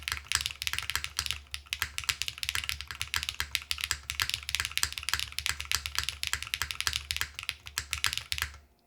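Fast, steady typing on a mechanical keyboard with KeyGeek Mir V2 switches on a PP plate, soft close clicks and thocks rattling along continuously with a low hum beneath, no talking.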